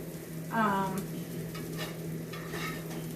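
Breaded eggplant slices in an egg wash fry in a pan with a steady close sizzle, joined by scraping stirring sounds and a brief voice-like tone partway through.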